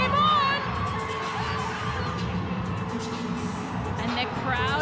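A stadium crowd at BMO Field in Toronto during the Northern Super League Championship soccer match, AFC Toronto against Vancouver Rise FC, with Vancouver Rise supporters cheering and whooping steadily, loud and continuous, with a voice talking over it.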